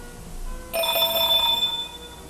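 A telephone bell rings in an analog horror piece, a bright trilling ring that starts abruptly after a quiet stretch, holds for about a second, then fades back to low background hum.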